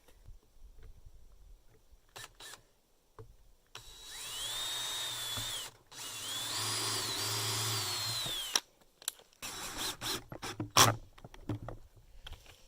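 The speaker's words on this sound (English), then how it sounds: "Let's drill some holes and screw it on." A cordless power drill bores holes and drives screws into a wooden handle in two sustained whirring bursts, separated and followed by short tapping and handling noises, close and fairly quiet, with no speech.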